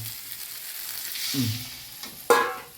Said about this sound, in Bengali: এবারে এই আলুগুলো দিয়ে দেবো, আলুগুলো দিয়ে সুন্দর করে কষাবো আবার।